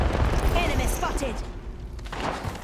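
Gunfire in a multiplayer shooter video game, with a burst of shots and thuds up front, then fading, under game voice callouts.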